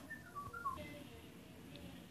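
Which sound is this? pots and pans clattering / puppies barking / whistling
whistling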